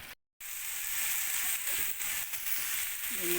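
Ingredients with shrimp paste sauté in a hot pan, giving a steady, continuous sizzle after a brief silent dropout at the start, with occasional stirring scrapes.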